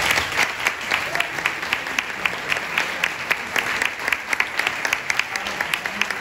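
Lively applause from an audience at a board game festival prototype contest in Barcelona, sustained clapping with sharp individual claps standing out, with some voices mixed in throughout.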